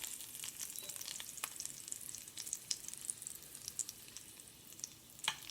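Butter sizzles and crackles steadily in a pan as it browns toward burning for sage ravioli, with scattered sharp pops rising over a soft continuous hiss, with no voices.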